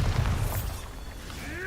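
A Bombarda explosion spell in the Hogwarts Legacy video game lands with a deep rumbling boom at the start and fades into a dull roar, with faint bright chimes near the end.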